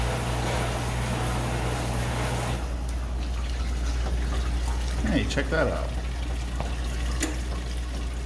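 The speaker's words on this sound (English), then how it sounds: "That's the sound of water flowing into the booster tank because the fill valve works now." Water fills a dishwasher booster heater tank through a newly repaired fill valve with a steady hiss and low hum, and someone speaks briefly over the flow.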